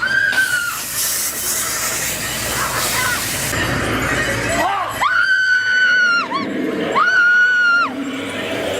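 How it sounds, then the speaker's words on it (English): A woman shrieks repeatedly inside a haunted house attraction, loud drawn-out screams in several bursts amid noisy chatter and background commotion. "Mom screamed so much."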